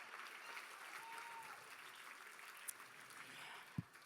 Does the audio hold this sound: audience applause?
yes